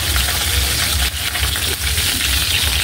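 Fish frying in hot cooking oil, a loud, steady, crackling sizzle that runs throughout with small pops, close up and with no talking.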